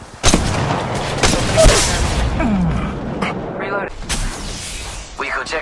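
Gunfire and booms from the Apex Legends video game, with sharp shots and heavier blasts that come in bursts over a steady din of action, and speech mixed in throughout.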